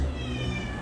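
A white house cat meows indoors, a close, sustained tonal cry lasting under a second over a low background hum.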